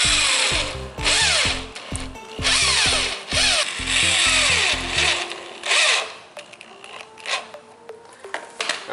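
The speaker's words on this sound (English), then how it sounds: "now we're going to use the screw and the screwdriver" A power screwdriver drives a screw into a broken glove compartment hinge on an Audi, its motor whirring in a quick run of short pulses that stop about halfway through, followed by quieter handling clatter.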